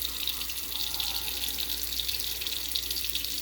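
Hot water runs steadily from a tap into a sink during a wet shave with a 1920s Gillette razor, a close, continuous splashing hiss with no talk.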